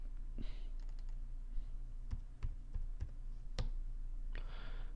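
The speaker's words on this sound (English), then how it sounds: "I have a dodgy keyboard." Scattered, uneven clicks and taps come from a dodgy computer keyboard during typing, close and fairly quiet over a steady low background hum.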